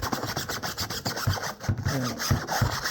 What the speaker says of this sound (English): scrub the screen, but I do it on both sides.